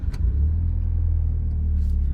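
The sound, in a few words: Mitsubishi Evo 8 car driving off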